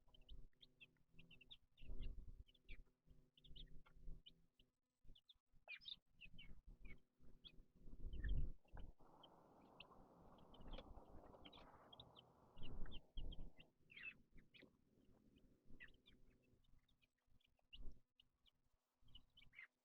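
Dual-purpose Bresse and New Hampshire chickens in a brooder give soft, scattered clucks and peeps, faint and intermittent against a quiet background, with a brief burst of rustling noise.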